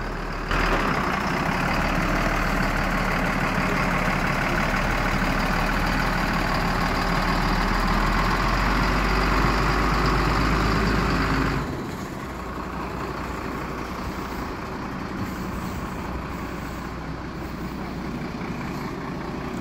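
Fully loaded scaffolding lorry with its diesel engine idling nearby, a steady low rumble that drops abruptly to a quieter, thinner drone partway through.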